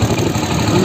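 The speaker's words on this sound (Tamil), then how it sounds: "நார்மல் ரேஸ் பண்ணாமல் ஒரு சவுண்டு, சைலன்சர் பைப்போட சவுண்டு" A Hero Honda Splendor Plus motorcycle idles without revving, its silencer pipe giving a loud, close, low, steady thrumming putter for under a second.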